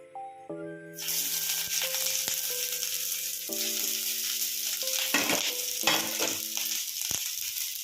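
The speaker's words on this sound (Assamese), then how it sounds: "এতিয়া মই কেৰাহীত এইখিনি সব মিক্স কৰি আদা, নহৰু, জলকীয়া, পিয়াজ এইখিনি তেলত দি দিছো।" Ginger, garlic, chili and onion hit hot oil in a wok, and a loud sizzle bursts in after a second and hisses on steadily, with stirring clatter and soft background music underneath.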